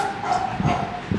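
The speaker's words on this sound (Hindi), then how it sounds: "वो कुत्ता हंसना तो दूर, देख के लोगों पर भौंकने लगा।" A dog gives short barks and yips at a crowd, a quick cluster of sharp, close barks over a brief moment.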